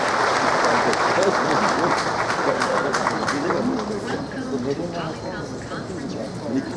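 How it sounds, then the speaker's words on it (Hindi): Enthusiastic audience applause at a government launch ceremony in Bihar, a dense sustained clapping from a large crowd that gradually thins out toward the end. "और जोरदार ताली से इस क्षण का आप स्वागत करें।"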